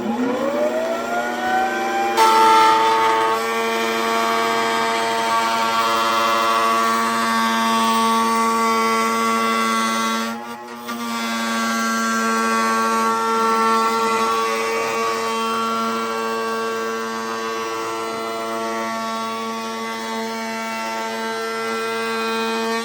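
A router fitted with a 1/8-inch bearing rabbet bit cuts material on a 10-inch mid-bass speaker ring, giving a loud, steady, high-pitched whine close by. The whine dips for a moment partway through, then holds constant with no talking.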